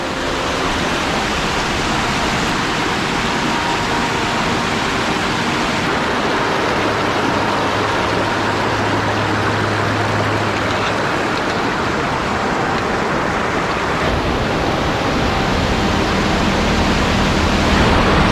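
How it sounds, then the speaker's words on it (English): A mountain river rushes across a hiking trail crossing on the Summerland Trail in Mount Rainier National Park, a loud, steady, broadband roar of water that holds unbroken from start to finish with no voices. "Beautiful river to cross."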